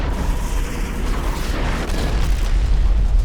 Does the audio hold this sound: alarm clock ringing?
no